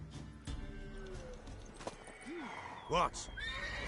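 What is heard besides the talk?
horse hooves and neigh in The Witcher 3 video game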